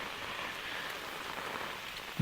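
Heavy monsoon rain pours steadily in rural Konkan during a storm, a dense, even hiss of drops on surfaces, fairly faint and continuous.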